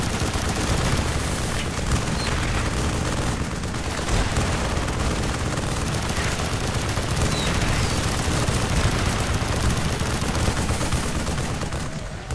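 Dense gunfire in the video game Call of Duty: Black Ops at a crash site, loud sustained automatic bursts and booms that overlap continuously, with no clear talking.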